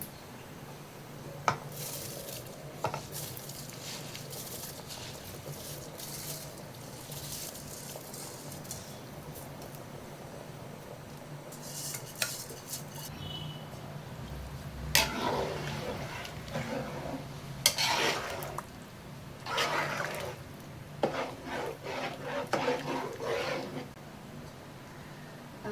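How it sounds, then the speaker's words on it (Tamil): Rice poured into boiling water and stirred in a pot for seeraga samba mutton biryani, giving scattered clinks and scraping bursts over a steady low boil hum, with louder stirring clatter in the latter half. "ரைஸ் போட்டு நல்லா கலந்து விட்டாச்சு."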